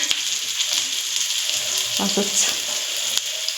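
Onion or food frying in a pan until reddish, a steady close sizzle throughout with a few stirring scrapes and a brief word spoken.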